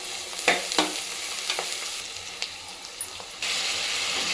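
Thinly sliced capsicum and onions fry in a pan for a potato rice breakfast dish, with soft sizzling broken by a few sharp stirring clacks, then a steadier, louder hiss near the end.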